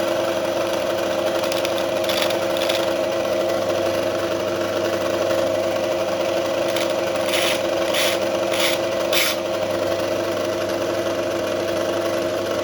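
A bench grinder runs with a steady motor hum while a screwdriver tip is touched to the wheel, giving several brief grinding rasps against the constant whine; no talking.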